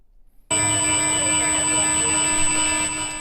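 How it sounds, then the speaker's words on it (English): A locked, stolen smartphone blares a loud, continuous electronic alarm siren, a steady piercing tone that starts abruptly after half a second of near silence and keeps sounding without a break. "they were able to lock all the phones and do it so that a siren, an alarm is going on nonstop."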